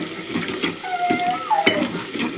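Sliced onions and curry leaves fry in hot oil with mustard seeds for sambar, a close crackling sizzle broken by quick stirring scrapes and a metallic clink of a spoon against the pan.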